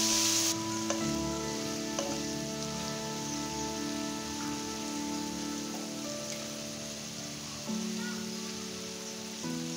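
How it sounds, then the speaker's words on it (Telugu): Eggplant pieces frying in a pan for a Telugu vankaya curry, a steady close sizzle with soft stirring scrapes as they are mixed, and faint tonal hum running through. "ఇలా వంకాయ ముక్కలు వేసుకున్న తర్వాత ఒకసారి మిక్స్ చేసుకుందాం."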